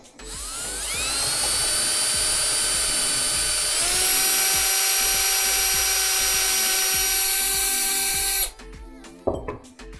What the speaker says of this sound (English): I would use a 1/4 inch drill bit and use that as a pilot hole